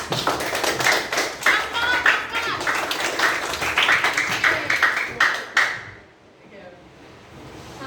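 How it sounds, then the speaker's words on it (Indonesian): A classroom of students claps for a classmate named Dika, a dense round of close, rapid handclaps with a few voices mixed in, fading out abruptly near the end into quiet. "tepuk tangan buat Dika"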